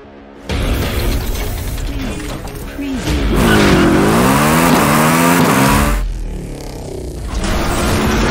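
NIO EP9 electric hypercar in Forza Horizon 5, accelerating loudly with a rising whine and sweeping pitch, plus a brief tire squeal, sustained and close throughout.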